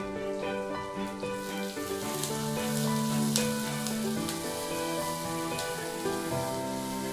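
Onion and garlic sautéing in a pan for egg thokku, a steady close sizzle with crackles and stirring clinks running throughout, no voices.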